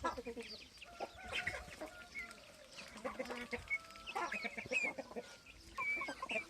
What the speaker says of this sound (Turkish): Horoz karşılaşması.